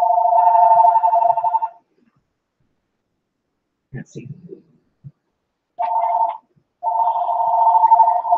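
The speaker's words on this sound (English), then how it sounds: "Just 1 second, let me grab the phone." A telephone rings in loud, close electronic bursts, a long tone, a pause, then two more ring bursts, with a person murmuring briefly in the gap.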